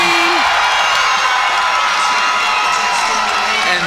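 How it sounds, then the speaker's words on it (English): A high school boys basketball crowd at Skyline vs. Huron cheers after a two-handed dunk, making a dense, loud roar of yells and whoops throughout. "This crowd going absolutely bonkers out there after a two-handed dunk from Justin Latham"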